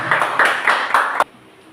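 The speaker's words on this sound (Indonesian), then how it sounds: "Tepuk tangan dulu untuk kelompok yang pertama" A small group claps briefly: a few uneven bursts of hand claps, close and fairly loud, ending abruptly into quiet.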